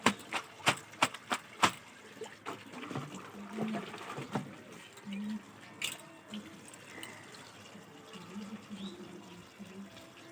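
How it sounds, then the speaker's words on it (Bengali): Clothes washed by hand on a rooftop on a winter day: several sharp wet slaps at the start, then soft splashing, dripping and trickling water, fairly quiet and close. "জামা কাপড় ছিল সেগুলো কেটে নিই ছাদে বসে বসে"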